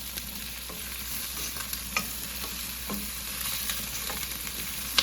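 Sliced onions sautéing in a pan for ginataang kalabasa at sitaw, a steady soft sizzle broken by scattered clinks and scrapes of stirring, close and moderately quiet with no talk.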